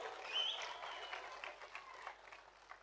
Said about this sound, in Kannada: ಅವ್ರಿಗೆ ನೀವೆಲ್ಲರೂ ಕೂಡ ಒಂದು ದೊಡ್ಡ ಚಪ್ಪಾಳೆ ಕೊಟ್ಟು ಅಭಿನಂದನೆ ಸಲ್ಲಿಸಬೇಕು.